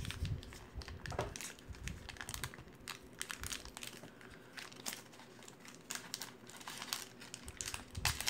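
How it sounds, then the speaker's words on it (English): A crinkly foil trading card pack is torn open by hand, with close, fairly quiet bursts of crinkling and rustling in an irregular rhythm and short pauses, and no speech. "see if I can open these and not look like an idiot trying to open the package"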